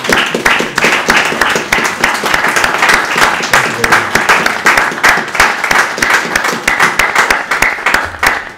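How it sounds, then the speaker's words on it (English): Audience applause for the Bishop of Truro at a formal church gathering, a dense steady clapping from a large crowd that carries on for several seconds. "I ask you all to show your appreciation with an applause for his grace."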